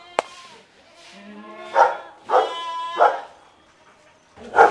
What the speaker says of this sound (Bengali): দেখেন বাইরে একটা কুকুর যাচ্ছে, আর টাইসন কেমন করতেছে, মনে হয় যে খাঁচা ভেঙে বের হয়ে যাবে